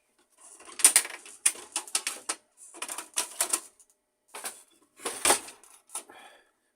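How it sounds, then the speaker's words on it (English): Pickup roller being removed from a Samsung ML-2015 laser printer, a run of short plastic clicks, snaps and scraping rattles in clustered bursts with brief quiet gaps, close up. "in this video I want to show you how to replace brake pad in Samsung ML-2015 laser printer"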